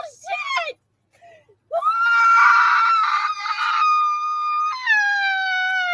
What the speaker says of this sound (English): I don't want to listen to that scream.